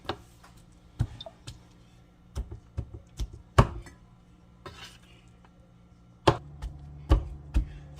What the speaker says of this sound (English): as I chop it, I'll be putting it back into the bowl